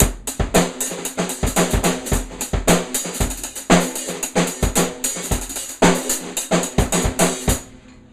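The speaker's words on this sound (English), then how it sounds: "it involved a lot of hi-hat rolls, snare shots, and bass drum hits" A dense, busy drum pattern with rapid hi-hat rolls, sharp snare shots and frequent bass drum hits, played continuously and loudly with no other sounds.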